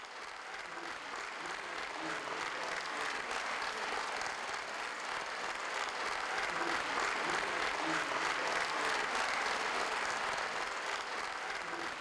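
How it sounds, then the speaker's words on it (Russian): Steady, dense applause from a concert hall audience at a jubilee concert, continuous and even for the whole stretch, moderately distant with no voices over it. "Полагаю, что эти аплодисменты адресованы нашей Тамарочке"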